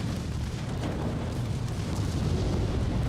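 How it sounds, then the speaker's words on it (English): Torpedo strike on a warship in the naval battle game Ultimate Admiral: Dreadnoughts, a deep sustained rumbling boom filling the whole stretch, heavy and loud with a steady roar and no distinct onset, no speech. "Oh, torpedo hit there on the Pathfinder."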